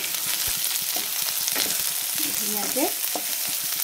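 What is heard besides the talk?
onions, beans and carrots frying in a pan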